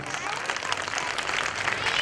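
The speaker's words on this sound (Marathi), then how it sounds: "भगवान सरांसाठी कृपया आपण जोरदार उपस्थितांनी जोरदार टाळ्या वाजवायची" An audience at a school annual function applauds loudly, a dense, sustained wash of many hands clapping at once that fills the whole moment.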